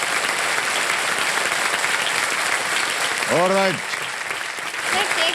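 Studio audience on a TV quiz show, Kaun Banega Crorepati Season 15, applauding a contestant in a loud, sustained burst throughout, with a man's brief spoken word cutting in partway.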